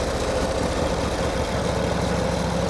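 A 1949 Harley-Davidson Enduro Panhead motorcycle engine warming up, a loud, steady, close idle rumble with an even low throb and no talking.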